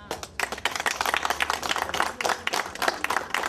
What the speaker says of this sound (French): Je vous demande de l'applaudir de votre cœur.